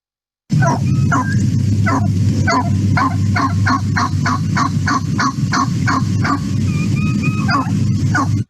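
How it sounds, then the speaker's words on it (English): A grassland game bird gives a long run of rapid, evenly spaced assembly calls over a constant low rumble of background noise, sounding loud and close. "the one you're most likely to hear is this assembly call"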